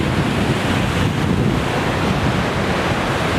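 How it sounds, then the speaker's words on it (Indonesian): Ocean surf grows heavier along the shore, a dense continuous wash of breaking waves mixed with gusty wind buffeting the microphone, with no voices. "Makin gede ya, lihat ombaknya."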